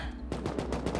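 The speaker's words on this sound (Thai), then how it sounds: "ก็ต้องขออภัยเสียงปืนเสียงระเบิดต่างๆด้วยนะครับ" Automatic gunfire on a public server in the survival video game Rust, a rapid burst of sharp shots following a brief lull, loud and close.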